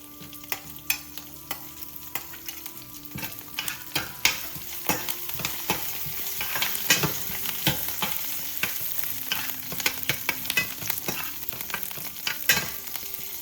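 Green chillies and curry leaves frying in a pan for aloo matar curry, a steady sizzle broken by sharp crackling pops and spoon taps on the pan, no voices.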